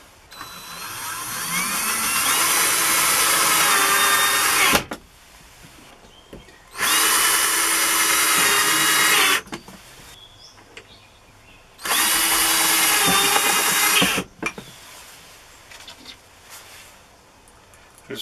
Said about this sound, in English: Now, I'm going to put the screws into it.